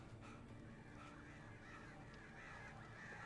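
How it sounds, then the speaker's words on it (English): Crows caw in the Alan Wake video game, heard faintly over a steady, dense ambient background with no voices. "Birds."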